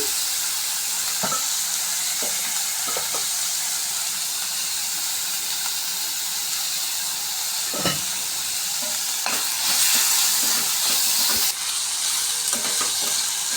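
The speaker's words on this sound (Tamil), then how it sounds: "இப்போ நீங்கள் இந்த வெங்காயம் தக்காளி கொஞ்சம் வதங்குறதுக்காக லைட்டாக உப்பு ஆட் பண்ணிக்கோங்க" Onion and tomato sauté with salt in a pan for a potato stir-fry, a continuous loud sizzle and hiss broken by occasional sharp scraping stirs of a utensil, with no talking.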